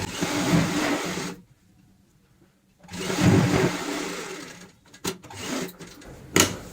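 A sewing machine runs in two sustained bursts separated by a quiet pause as fabric for a cushion cover is stitched along marked lines, then gives a few short stop-start clicks and whirs near the end.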